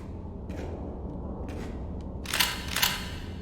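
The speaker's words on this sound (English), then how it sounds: "Hold left mouse to fire the bolt gun" A bolt gun in a horror video game fires a few short mechanical clacks and snaps, the last two louder and sharper, against a low steady background hum.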